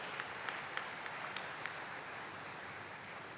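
Faint, steady applause from a crowd at a truck plant inauguration ceremony honoring a guest, a dense wash of clapping with a few sharper claps standing out, heard from a distance.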